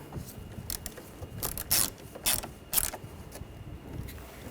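A hand ratchet snugs down bolts on a 2013-2019 Ford Escape during an ignition coil boot job, giving a few quiet close clicking bursts spaced irregularly over soft background noise.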